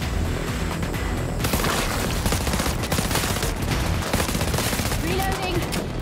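Rapid, dense gunfire in the video game Evil V Evil rattles on continuously and loud, bursts overlapping into a near-constant barrage.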